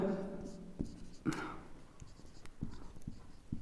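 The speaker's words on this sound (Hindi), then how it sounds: "उदाहरण हम लिखेंगे यहां पर" Chalk or pen writing an example sentence on a classroom board during a Hindi grammar lesson, with a few short scratchy strokes and taps spaced irregularly and fairly close.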